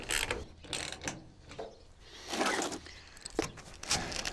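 The rear clamp of a TruXport roll-up tonneau cover being tightened on a pickup bed: a close series of mechanical ratcheting clicks and scrapes in irregular bursts, with no voices.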